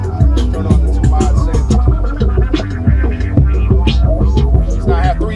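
A Rane Sixty Eight DJ mixer running its mod effect on loud music, producing a strong rhythmic throbbing pulse that pumps steadily throughout.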